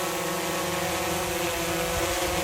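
A drone in flight overhead gives a steady, continuous droning buzz with tonal propeller whine, fairly loud and unbroken, with no voices.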